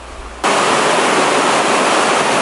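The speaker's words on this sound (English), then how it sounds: "you'll come to what is the top of the falls" A waterfall heard from the top of the falls, a loud, steady, broadband roar of rushing water that starts abruptly and continues unbroken and close.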